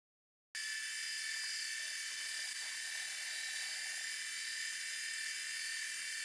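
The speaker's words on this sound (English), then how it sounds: "I'm drilling into a rounded surface, so without using the center drill first, the twist drills would just wander off." A twist drill boring M5 holes into a rounded metal part for a boring head's locking mechanism, a steady high-pitched whine that starts abruptly and holds constant, fairly close.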